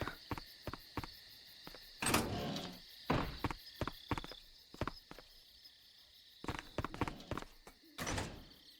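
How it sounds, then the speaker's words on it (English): A door slams open in the stealth video game Metal Gear Solid 3: a loud thud near the start, then a series of sharp knocks and footstep-like clunks over a steady insect-like game ambience with high tones. "Slams the door open."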